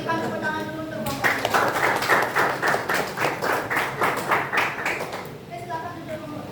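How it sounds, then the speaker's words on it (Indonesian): Classroom applause for a student group after a math presentation: a burst of rhythmic hand clapping from many people starts after a brief spoken phrase, holds steady for about four seconds, then fades as talking resumes. "berikan tepuk tangan dulu untuk kelompok"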